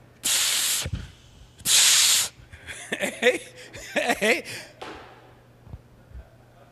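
A voice imitates the hiss of an egg frying, two loud bursts of broad spray-like hissing, followed by laughter and talk in a room.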